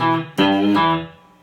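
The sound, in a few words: guitar riff played with slight bend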